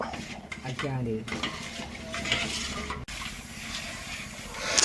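Jaggery payasam for Thiruvathira is stirred in a pot on the stove, giving a continuous close scraping and swishing with a soft bubbling bed, briefly under a voice at the start.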